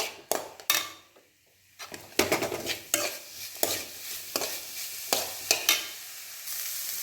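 A spoon scrapes and clatters against a pan as ground coconut, green chili and cumin paste is stirred into frying chayote and green peas, with repeated sharp knocks over a steady sizzle.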